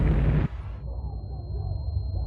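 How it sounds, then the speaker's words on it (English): A hydrogen explosion at a nuclear reactor (Reactor 3): a loud, dense blast that cuts off abruptly, then gives way to a low rumbling aftermath. "Reactor 3 is rocked by a hydrogen explosion similar to that in Unit 1"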